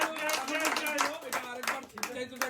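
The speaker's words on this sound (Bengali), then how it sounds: "হাততালি হাততালি" A small group at a birthday gathering claps hands in short, uneven bursts, close and fairly loud, with voices talking over the clapping.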